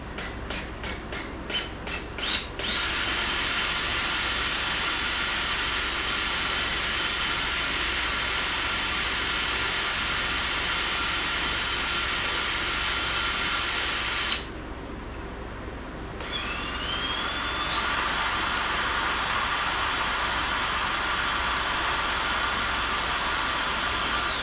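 A power drill whirs steadily at high pitch while drilling a hole in a Jeep YJ for a seat swap, stopping briefly partway through before spinning back up and running on, with no voices.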